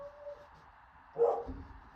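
A single dog bark breaks out briefly in a quiet indoor room, moderately loud and close, with a low rumble trailing after it and no talking.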